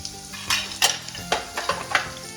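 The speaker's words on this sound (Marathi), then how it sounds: "जिरा मोहरी टाकायची अर्धा चमचा" Cumin and mustard seeds frying in hot oil in a pan, with a steady close sizzle broken by several sharp crackles and spoon scrapes in quick succession, no talking.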